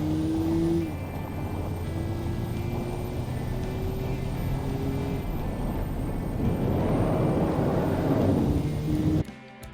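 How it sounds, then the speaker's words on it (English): A production car's engine in the racing game Automation revs and accelerates on a track, a loud continuous drone with tones that climb in pitch, cutting off abruptly at the end. "And here we go. Blistering speeds and acceleration."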